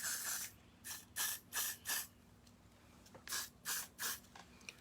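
Aerosol hair holding spray, used while fitting a wig around the ears, hisses out in eight short bursts. Most are about a third of a second long, with a longer blast at the start and a pause in the middle, with no talking.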